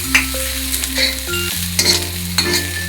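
Tomatoes and garlic fry in a pan with a steady close sizzle, broken by a few clinks and scrapes of stirring, and no voices.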